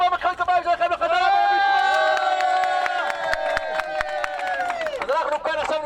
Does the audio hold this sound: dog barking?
no